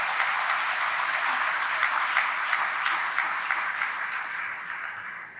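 Conference audience applauds in a sustained, even wash of clapping that holds steady for several seconds before tapering slightly at the end.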